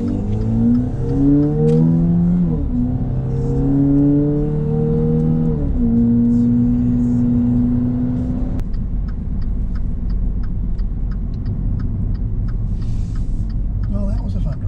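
Dodge Dart car engine revving through several gear changes, pitch rising and dropping in steps, then settling to a steady rumble while cruising, heard from inside the cabin with some clicking.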